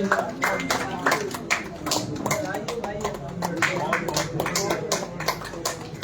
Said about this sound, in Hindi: अरविंद असर जी का जोरदार तालियों से स्वागत कीजिए